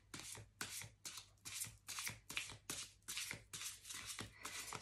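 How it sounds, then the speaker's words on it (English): Cards being shuffled repeatedly, a rapid series of crisp riffling bursts in steady rhythm, close and fairly quiet, with no talking. "Can't even shuffle these cards."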